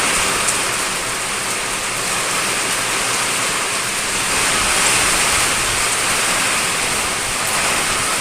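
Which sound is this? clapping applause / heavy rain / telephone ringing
heavy rain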